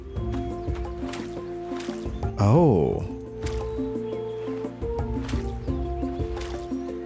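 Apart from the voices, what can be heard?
watering crops in Roots of Pacha video game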